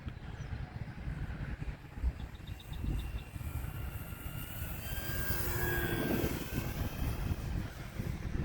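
E-flite T-28 1.2m RC model airplane flying a knife-edge pass between rain storms, its electric motor whine rising and falling faintly over steady wind noise.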